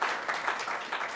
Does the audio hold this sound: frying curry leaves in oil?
no